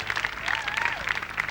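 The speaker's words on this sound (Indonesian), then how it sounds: "Mana tepuk tangan buat Gilang" A television studio audience applauds for Gilang after he sings, a brief lively patter of clapping with a voice briefly rising over it.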